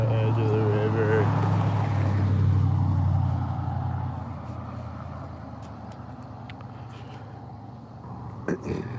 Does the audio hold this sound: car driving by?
yes